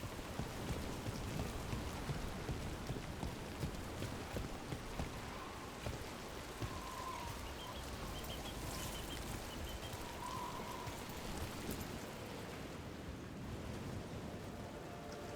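Steady rain pours down continuously in the video game Dragon Age: The Veilguard, a dense hiss of drops hitting surfaces with no voices, a few faint tonal sounds drifting in the background.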